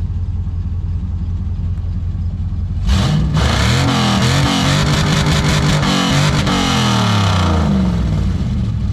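An LS-swapped G-body car idles with a low steady rumble, then its exhaust roars loudly into repeated revs with a rough, crackling cackle, close and filling the space.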